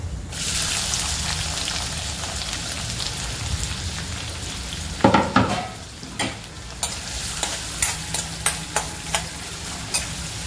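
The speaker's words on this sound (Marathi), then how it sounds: "मोहरी जिरे कांदा घालते मी यामध्ये।" Mustard seeds, cumin and onion frying in oil, a loud continuous sizzle with a burst of crackling, then stirring and sharp spatula taps against the pan.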